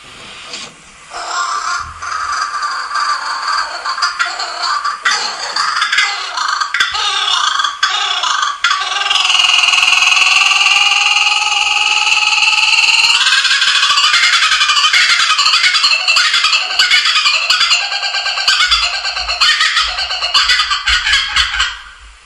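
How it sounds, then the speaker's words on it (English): Kookaburra's laughing call, a long loud run of rising, cackling, chattering bird notes that builds and holds steady before fading, heard alone without talk. "That is the fun kookaburra bird. Kookaburra bird. They have that laugh."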